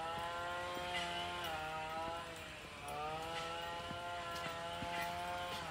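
Petrol grass trimmers run steadily and loudly, their high engine whine rising and falling in pitch as the throttle changes, with several machines overlapping throughout.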